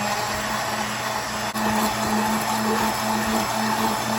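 A hand blender whirs continuously through sauce in a shallow pan, a steady loud motor drone with one very brief dip partway through. No one speaks.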